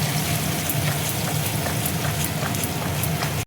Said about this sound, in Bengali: টমেটোর পেস্ট দেখো দিয়ে দিচ্ছি